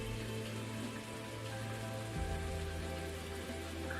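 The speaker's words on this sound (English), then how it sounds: "the rain is going to stir up the water, oxygenate it, and make the fish more active" Steady rain falls on water in the Ultimate Fishing Simulator VR fishing game, a continuous even patter and hiss with a low hum underneath, no voices.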